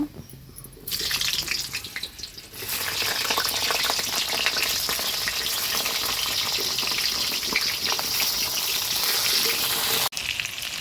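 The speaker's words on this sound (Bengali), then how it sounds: "এখন আলুগুলো ভেজে নেব।" Potatoes frying in hot oil in a home kitchen, right after onions were fried crisp: a steady, loud, close sizzle that holds almost unbroken for about ten seconds after a quieter start, with no talking.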